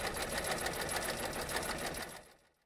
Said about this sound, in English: You power a treadle sewing machine with your feet.